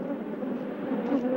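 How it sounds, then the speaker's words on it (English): A swarm of killer bees buzzes around a camera, a dense, steady droning hum close by, with individual bees flying near and away. "I actually feel the bees hitting me"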